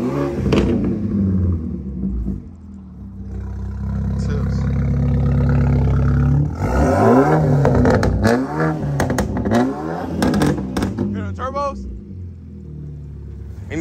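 A Dodge Challenger Scat Pack V8 catches and settles into a deep, loud idle rumble, then barks through several sharp revving bursts up close, with people talking over parts of it.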